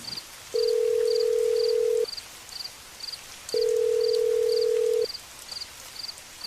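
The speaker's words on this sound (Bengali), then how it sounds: "প্রতিবারই ফোনটা বেজে বেজে কেটে গেল।" Phone call ringing unanswered in the rain: two long, steady ringback tones separated by a pause, with faint chirping insects in the background and no talk.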